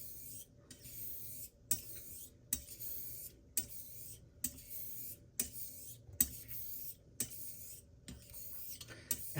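A razor being honed on a natural whetstone with slurry makes a soft, wet, gritty rubbing, broken by regular sharp clicks as the blade turns over at each end of the stroke, close and alone with no voices.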